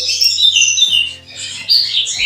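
Red siskins in hanging breeding cages give bright chirps and squeaky twitters, a near, busy overlapping chorus of short calls running throughout with no talking.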